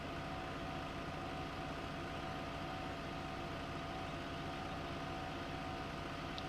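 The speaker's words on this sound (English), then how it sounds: "Wow, this trailer likes to weave a lot with this little trailer, with this little tractor." A small tractor in Farming Simulator 15 hauling a little trailer, its engine giving a steady, quiet, low drone throughout.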